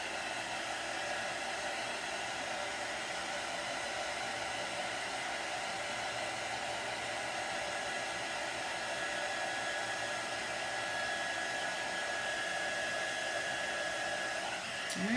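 A hair dryer blows steadily and close up to dry a craft project, a continuous loud whooshing hum that holds unchanged for the whole stretch and clicks off at the very end.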